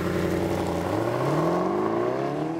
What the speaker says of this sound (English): Mash the gas pedal and the SLS takes off like a veritable road rocket.